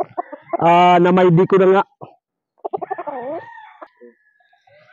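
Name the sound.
rooster crowing and clucking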